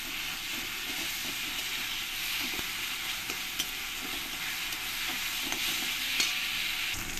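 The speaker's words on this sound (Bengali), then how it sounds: "আদা রসুন পেস্টটা দিয়ে আমি পেঁয়াজের সঙ্গে কষিয়ে নেব।" Ginger-garlic paste sautéing with fried onions for paneer masala, a steady broadband sizzle with scattered spoon scrapes and stirring clicks throughout, close and moderately loud with no voices.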